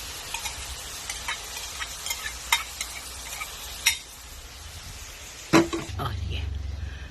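Carrots stir-fried in a pan for pancit guisado give a steady sizzle with scattered scraping and tapping of a utensil against the pan, close by, ending in a sharper clank and a low rumble.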